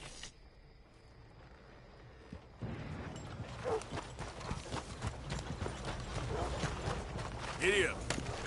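Horse hooves clip-clop in Red Dead Redemption 2, a steady rhythmic gait over low rumbling game ambience, with a faint whinny near the end.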